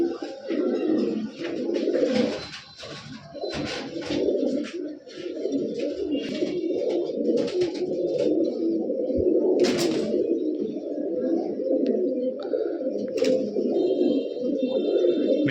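Giribaz and coloured pigeons coo continuously in a chorus of overlapping, throaty calls, close and fairly loud, with occasional wing flutters and clatter from the coop.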